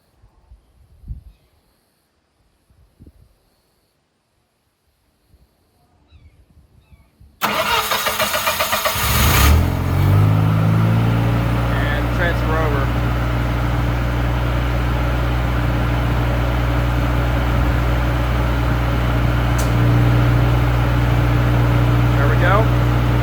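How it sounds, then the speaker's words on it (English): A Generac 25kW liquid-cooled standby generator cranks and starts after a quiet lead-in with a few small clicks, then settles into a loud, steady, humming idle that continues to the end. "Generator will count down, start up."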